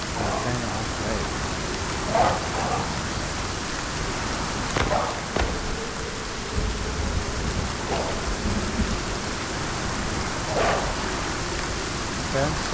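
Steady rain pours throughout a storm in the survival video game Icarus, a dense hiss on surfaces broken by a few low rumbles and brief sharper crackles, continuous and fairly loud.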